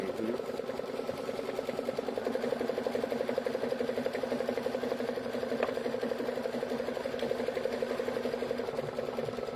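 A Baby Lock embroidery machine stitches an in-the-hoop design, giving a steady, close mechanical whir with a rapid needle rhythm that runs unbroken and evenly loud throughout.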